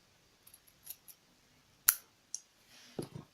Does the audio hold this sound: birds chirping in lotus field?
no